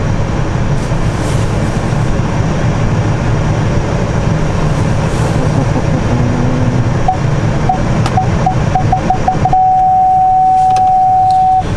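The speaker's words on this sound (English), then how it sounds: "And that beeping clicking noise you're hearing, that honed in on my yardstake as I was backing up here." A Ford F-150's backup parking sensor beeps while the truck reverses toward a yard stake, starting as spaced tones that speed up and then merge into one continuous tone over steady road and engine noise.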